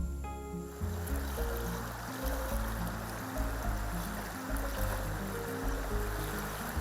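A fast-flowing river in rural East Java, steady broadband rushing water with continuous turbulent churn, loud and close throughout with no voices.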